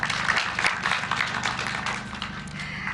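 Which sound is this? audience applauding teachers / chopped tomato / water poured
audience applauding teachers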